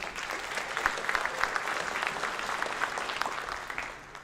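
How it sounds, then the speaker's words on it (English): An audience at a high school spring signing ceremony claps steadily, a moderate, even wash of clapping from many hands that fades slightly at the end. "Give them a round of applause, please."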